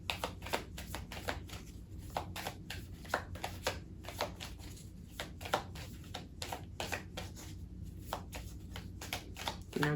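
A deck of angel cards being shuffled by hand, steady soft riffling and slapping card sounds continuing throughout, close and fairly quiet.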